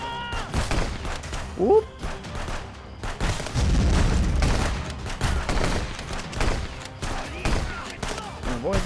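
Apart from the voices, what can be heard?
gunfire in the video game Wizard with a Gun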